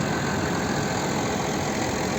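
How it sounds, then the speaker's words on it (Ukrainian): A New Holland 7070 tractor engine idles in a steady, dense rumble with no pauses, close and loud throughout. "Так, Модель трактора Ніколан 7070."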